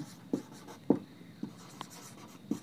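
Pen or chalk writing in a logic lesson, a few soft separate strokes and taps spaced about half a second apart, close and quiet.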